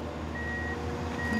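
Steady electronic reversing beeps from a vehicle backing up in a cartoon, a repeated high tone sounding over a low engine hum, loud and close with no talking.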